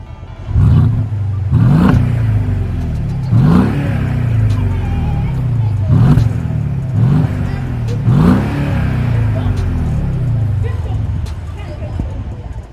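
Stock exhaust of a 2013 Mercedes CLS 550 V8 with no modifications, close and loud, blipped through about six quick deep revs that each fall back to a burbling idle.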